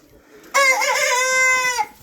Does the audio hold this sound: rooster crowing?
yes